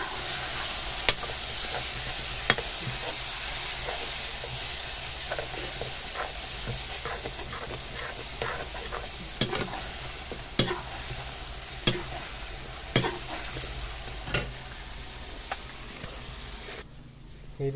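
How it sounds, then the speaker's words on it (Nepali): Chicken with masala being stirred in a hot pan, a continuous sizzle punctuated by regular spoon scrapes and knocks against the metal, close and fairly loud. "अब बस अब यसलाई राम्रोसँग चलाउनु"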